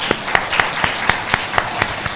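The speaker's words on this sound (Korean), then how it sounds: "일어나셔서 우리 성가대를 향하여서 우리가 박수를 좀 치겠습니다." A church congregation stands and claps for the choir. Slow, distinct claps land in unison at a regular beat of roughly four per second, fairly close and fairly loud, with a soft room wash between them.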